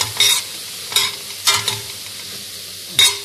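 Onions stirred and scraped in a dry pan with no oil, softening as they cook; four or five short scraping bursts of the spoon against the pan over a faint steady sizzle, close and clear with no talking.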